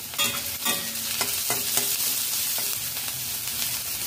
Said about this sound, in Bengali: লো টু মিডিয়াম ফ্লেমে 2 মিনিট নাড়াচাড়া করে নিয়েছি।